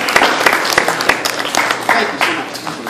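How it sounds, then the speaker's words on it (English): A college auditorium audience at a magic show applauds, with a dense wash of clapping sustained throughout, close and fairly loud. "Big round of applause for the 4"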